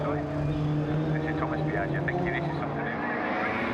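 Ford Escort rallycross car racing on a wet British rallycross circuit, a loud sustained engine drone with shifting pitch under a commentator's excited voice.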